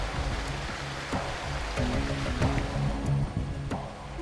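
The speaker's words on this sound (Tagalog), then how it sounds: "Ito ang ilog na kailangang daanan ng mga estudyante para marating ang susunod na barangay" A river that students must wade across to reach the next barangay, flowing steadily in a continuous broadband rush of water, close and fairly loud, with no one talking.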